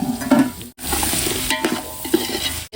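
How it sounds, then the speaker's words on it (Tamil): Chopped vegetables sauté with butter in a pan, a close, loud sizzle broken by scraping stirs and brief pauses, with no talking. "ஒரு பத்து நிமிஷம் நல்லா வதங்கட்டும் காய்"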